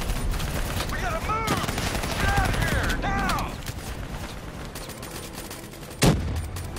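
Gunfire from the Black Ops 3 story campaign: rapid bursts of close shots mixed with whizzing, chirping effects, then a quieter stretch broken by one sharp loud shot near the end.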